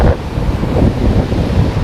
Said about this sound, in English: I know it's windy as fuck right now